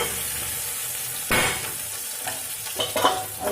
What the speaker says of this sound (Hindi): भून लेंगे